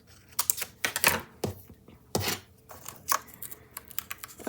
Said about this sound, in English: I'm going to go ahead and trim this out.